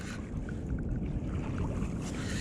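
Kayak paddling on open water while fishing for mackerel tuna, a steady wash of water and wind noise with soft paddle splashes running continuously at close range, no talk.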